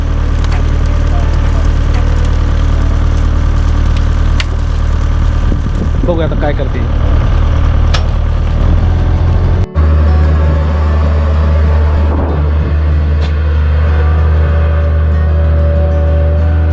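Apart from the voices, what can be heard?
car engine while being pulled out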